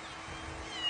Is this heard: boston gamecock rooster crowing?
no